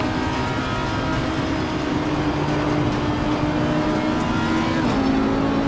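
AI race cars in a racing video game roar past in a steady, loud stream of engine drone, with a continuous layered whine and no pauses or talking.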